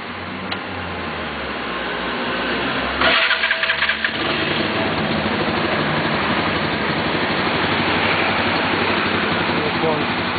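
A Nipponia 125 motorcycle engine cranks and catches around three seconds in, then keeps running at a steady, fairly loud idle until the end, close to the microphone.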